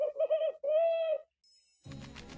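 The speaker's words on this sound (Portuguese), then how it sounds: "Uma coruja!" Two soft, hollow hoots ring out one after another, followed by a short gap and then a burst of rustling noise.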